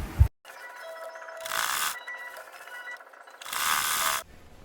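Domestic sewing machine stitching down the elastic casing on a balloon skirt waistband, a mechanical whirring run in two louder bursts with quieter clicking and handling between, close up and with no talk.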